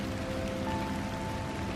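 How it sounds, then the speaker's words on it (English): Steady rain falling in Pennsylvania, a dense, even patter with no pauses and no voices. "It's raining"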